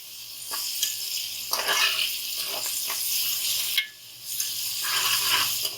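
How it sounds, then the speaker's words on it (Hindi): Chopped onion sizzles and sautés in a pan, a bright hiss of frying interrupted by several scraping stirs of a utensil, close and fairly loud with no voices. "1 बड़ा चम्मच जो है प्याज का, और इसको ज़रा हल्का सा ब्राउन करना है, थोड़ा सा सोते करना है।"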